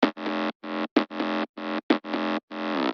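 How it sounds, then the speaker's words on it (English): A distorted mid bass synth layer for an electronic track, played as a choppy series of short, buzzy, gritty notes with brief gaps between them, loud and upfront with no voices. "This is another mid bass that I added."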